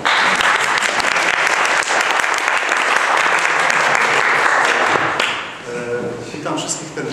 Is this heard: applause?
yes